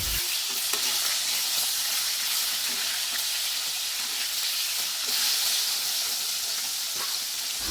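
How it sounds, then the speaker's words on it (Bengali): Marinated tilapia pieces fry in hot oil in a pan after being flipped, giving a loud, steady sizzle and hiss close up with no talking. "এক পাশ ভাজা হয়ে গেছে এখন আমরা উল্টিয়ে অপর পাশও ভেজে নেব"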